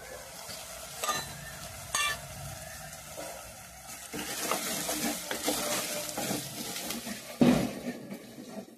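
Coriander seeds, dried coconut and masala powder fry in a pan for a beef mutton gongura curry, with a soft sizzle and sharp spoon knocks against the pan, then louder, busier stirring and frying close by, with no speech.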